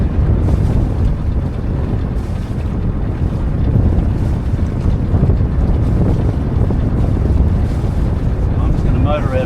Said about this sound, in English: So I'm just going to motor out of here